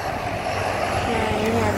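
Airplane landing on runway 6R at Soekarno-Hatta airport, a loud steady engine roar heard from nearby with a broad, continuous rumble, while a person talks over it.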